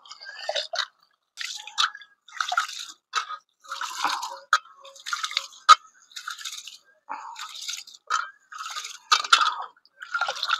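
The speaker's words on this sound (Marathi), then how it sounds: "तर आता आपलं तांदूळ धुवून घ्यायचं चांगले 2-3 पाण्याने" Rice being washed in water gives bursts of wet swishing and rattling grains, repeated in short, irregular rubs with brief pauses between, close and fairly clear.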